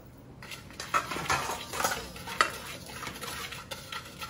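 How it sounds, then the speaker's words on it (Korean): A hand whisk stirs starch, sugar and salt together in a bowl, making a continuous soft scraping and light clinking at moderate distance, with no talking. "핸드 거품기로 저어주세요."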